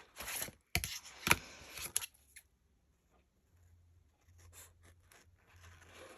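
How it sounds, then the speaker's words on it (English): Scissors cut paper while decorating a tabbed index journal, giving a few sharp, close snips in quick succession. Quieter rustling and handling of paper follow. "Let's cut that off."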